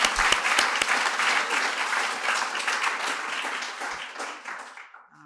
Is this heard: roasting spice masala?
no